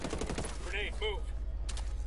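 Rapid gunfire crackles in Ghost Recon, a quick string of shots followed by brief electronic tones, fairly quiet under a steady low rumble.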